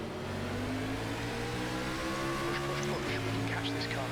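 A NASCAR stock car engine in the iRacing game revs up through the gears on a restart, rising tones stepping upward under a commentator's voice.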